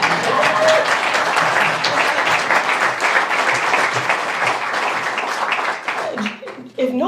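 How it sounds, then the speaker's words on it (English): An audience at a congressional address breaks into sustained, loud applause, dense clapping that holds steady for several seconds before tapering off as a voice begins to speak. "You can clap there."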